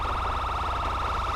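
A police siren tone from the GTA V LSPDFR mod with ELS vehicles wails in a steady, rapid, repeating warble. It is loud and unbroken, with no talk over it.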